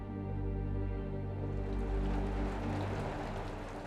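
Rain falls steadily in the Svaneti highlands of the Caucasus Mountains as autumn turns toward winter, a dense, even patter that fills the scene from start to finish over a low, sustained tonal hum.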